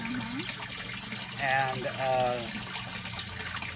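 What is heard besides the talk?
IBC tank siphon draining water in aquaponics system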